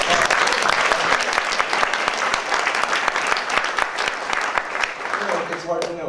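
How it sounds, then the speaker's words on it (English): Audience applause following a film screening at a lecture event, dense clapping from a full room sustained throughout, tapering slightly near the end. "it sounds like I heard some applause"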